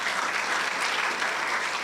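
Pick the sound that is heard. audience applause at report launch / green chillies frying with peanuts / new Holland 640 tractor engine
audience applause at report launch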